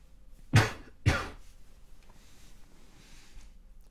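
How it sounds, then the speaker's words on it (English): Two quick, sharp coughs close together near the start, followed by faint room quiet. "Sorry for the coughing."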